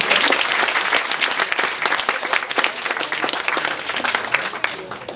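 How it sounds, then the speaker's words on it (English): Dense, steady applause from a wedding reception crowd greeting a bridesmaid being introduced, loud and sustained from start to finish with scattered whoops mixed into the clapping. "So applause."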